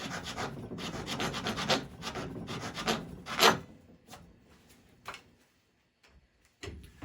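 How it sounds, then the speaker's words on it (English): A rasp files a wooden hickory golf club shaft in a workshop, producing steady close scraping strokes that grow sparse and stop near the end, with a few scattered knocks afterward. "I'm just going to have to use the rasp and elbow grease"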